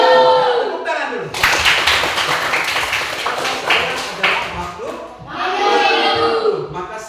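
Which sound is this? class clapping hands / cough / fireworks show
class clapping hands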